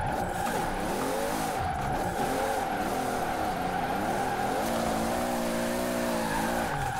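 Toyota Supra with a 1,200-horsepower build drifting in Forza Horizon 4, its tires squealing steadily and continuously over a sustained, wavering engine drone, loud and close throughout.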